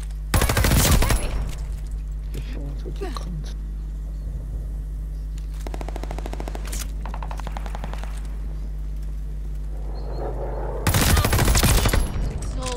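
Heavy gunfire in Call of Duty Vanguard: loud, dense bursts of automatic fire open and close the stretch, with rapid rattling volleys in between over a steady low hum.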